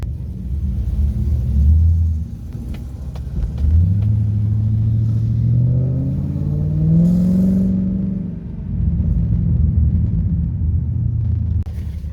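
A Ford Falcon BA XR8 V8 heads out onto the track at a speed event, its engine rumbling loudly up close and then revving in a long rising sweep before settling back to a deep idle burble.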